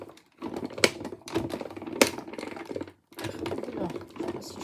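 Rapid mechanical stitching of a sewing machine working fabric flowers, running in steady bursts with short pauses between runs, close and moderately loud.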